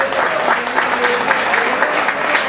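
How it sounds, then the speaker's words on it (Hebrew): An audience at a season-end event for the Hapoel Tirat Carmel sports club gives sustained, dense applause, loud and close, with clapping filling the whole stretch while a voice talks over it. "כפיים"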